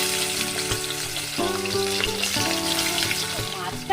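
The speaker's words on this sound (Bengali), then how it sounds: "এবার কড়াই বসিয়ে দিয়েছি, তেলও গরম হয়ে গেছে। আমি এবার মাছগুলো সুন্দর করে ভেজে নেব।" Small fish frying in hot oil in a wok, a loud continuous close sizzle with crackling bursts running throughout, alone without talk.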